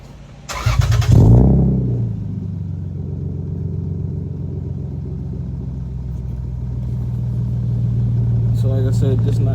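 A Lexus GS300 with catless headers, a mid pipe, a Vibrant muffler and single-exit exhaust starts with a loud burst, then settles into a deep, rumbling idle through a throaty exhaust, with a slight rise in volume toward the end.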